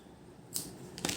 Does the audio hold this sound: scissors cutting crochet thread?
yes